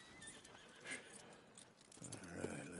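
Horse whinnying and hooves clip-clopping in the video game Red Dead Redemption 2, a clear neigh followed by soft hoof steps, heard at moderate distance against quiet game ambience.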